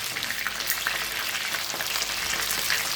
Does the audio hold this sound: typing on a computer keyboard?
no